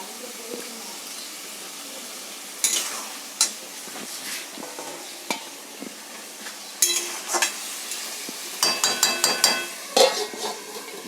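Lote fish being sautéed in a pan for a jhuri, with soft stirring scrapes and light sizzling, then sharper clatters of a spatula against the pan near the end, close and moderately loud.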